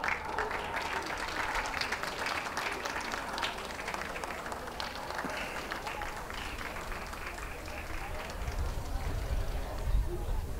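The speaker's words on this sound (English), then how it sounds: "last chance to cheer on your favorite" Audience at a championship dog show in the working group applauding and cheering, a steady wash of clapping and crowd noise heard from within the hall, with an announcer speaking over it.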